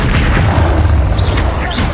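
A Bombarda spell bursts in Hogwarts Legacy as a loud, dense, low rumbling blast that fills the whole moment, with heavy booming energy and no talk.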